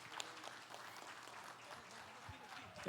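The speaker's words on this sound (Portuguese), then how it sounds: "os homens vão dar uma salva de palmas bem calorosa para as nossas mulheres" A congregation of men gives a warm round of applause for the women during a church celebration service, with steady, fairly soft clapping that continues throughout while voices murmur underneath.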